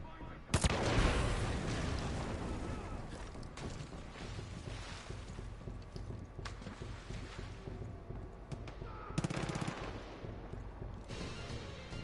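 Gunfire in the video game Far Cry 5 comes as sharp, loud bursts near the start and again later, with rattling shots and a busy mechanical backdrop between them.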